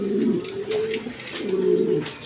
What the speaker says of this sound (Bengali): এখানে এক পেয়ার মন্ডিয়ান কবুতর আছে